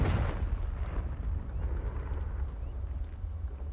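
A Confringo fire spell is cast in Hogwarts Legacy: a loud, close explosive burst opens the moment, then a rumbling roar of flames that stays heavy and fades slowly.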